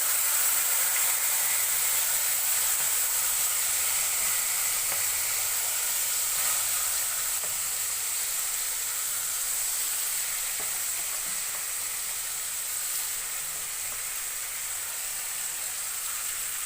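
Pieces of elephant apple fry in a pan for an elephant apple pickle, giving off a steady, close hiss and sizzle that continues without a break and eases slightly toward the end.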